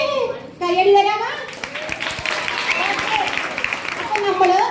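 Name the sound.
audience applause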